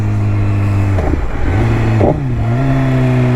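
A BMW S1000RR HP4 motorcycle engine holds a loud, steady tone, then revs sharply twice with quick drops in pitch between the blips, heard up close with no talking.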